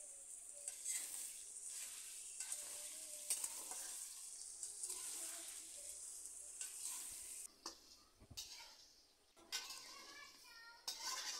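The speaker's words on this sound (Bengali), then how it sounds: "এবার কিছুক্ষণ আমি আলুর সাথে সিমগুলো ভেজে নেব। এখন আমি আলুর সাথে সিমগুলো মিশিয়ে নিচ্ছি।" Potatoes and flat beans fry and get stirred in a pan for a vegetable dish cooked without water. A soft sizzle runs beneath repeated spoon scrapes and clinks, faint and close.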